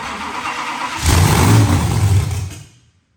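The blown engine of a 1941 Willys that sat for ten years cranks and catches briefly with a loud, close rumble, then dies away into silence.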